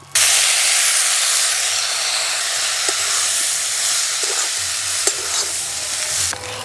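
Puffed rice and vegetables sizzle and hiss loudly in a hot pan as water is added a little at a time, with steady steam and a few scraping stirs, and no talking.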